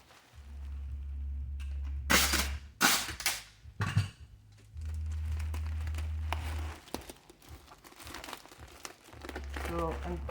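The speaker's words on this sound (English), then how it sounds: "So I'm just wrapping this tape around to attach to the other bubble wrap." Packing tape pulled off the roll and wrapped around bubble wrap cushioning an Ambrogio 4.0 Elite robot lawn mower, giving loud ripping strips and crinkling plastic amid a steady low hum.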